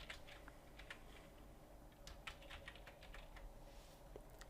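Typing on a computer keyboard: quiet, scattered key taps at an uneven rhythm, close but faint, with no voices.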